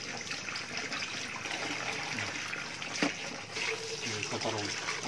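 Dirty water runs through a homemade filter made from a used plastic drink bottle, a steady, continuous trickle and gush with a few small splashes, fairly close and unbroken throughout.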